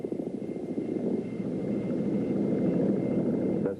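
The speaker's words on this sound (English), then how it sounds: "These are tandem, with rotors in front and rear." A tandem-rotor helicopter, rotors front and rear, flies with a steady, droning rotor and engine roar and a fast, rhythmic chop, loud and constant throughout with no talk.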